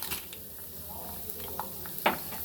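Chana dal, urad dal, mustard seeds and three dried chilies go into hot oil for wheat rava upma. A faint, steady sizzle carries occasional sharp crackles and pops.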